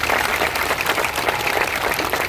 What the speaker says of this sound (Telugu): వీళ్ళందరికీ సమాధానం అయితే ఒకసారి గట్టిగా చప్పట్లు కొట్టండి.